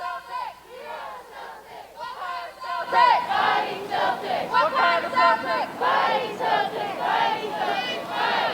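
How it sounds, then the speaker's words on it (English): A McNary High School graduating class shouting its final class cheer at a 2020 graduation ceremony, a crowd yelling in unison with rhythmic bursts that grow louder after a quieter start. "Now let's join together for our final class cheer."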